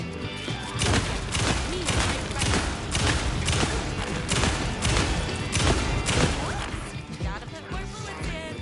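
Gunfire from Alan Wake 2 on PS5 Pro cracks in a steady series of heavy, evenly paced shots, fairly quiet and continuous throughout.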